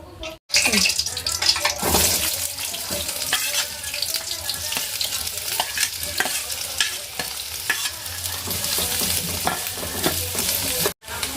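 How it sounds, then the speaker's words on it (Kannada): Onions fry in oil for a bakery-style masala bread, giving a steady, loud sizzle with scraping stirs throughout and a couple of brief dropouts near the start and end. "ಉಳ್ಳಾಗಡ್ಡಿ ಚಲೋ ನಂಗೆ ಫ್ರೈ ಆಗ್ಬೇಕು"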